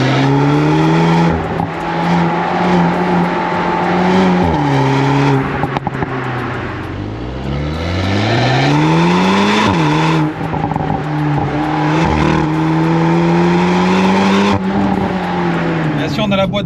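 A 2023 VW Golf 8R 20 Years limited edition with Akrapovic exhaust and DSG gearbox, engine roaring loud and close as revs climb, drop and climb again through shifts, with someone talking over it.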